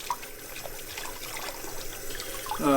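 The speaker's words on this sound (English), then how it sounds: "to test them like this with running water and dipping, you know, in the water and kicking it around" Running water splashing as winter gloves are dipped and kicked around in it, a steady moderate wash with small splashes throughout.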